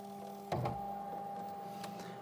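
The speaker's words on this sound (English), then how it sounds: "I will say that this is a much noisier printer than the A1" A Bambu Lab P1S 3D printer runs its self-test with a faint steady motor hum, a sharp mechanical clunk near the start and a few quieter clicks and whirs after it.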